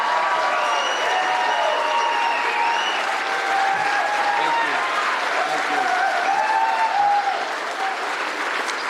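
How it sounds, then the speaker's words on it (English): A press-conference audience gives a steady round of applause for a new women's basketball head coach, dense and sustained for the whole stretch, with voices and cheers mixed in. "All right, now give him a real round of applause."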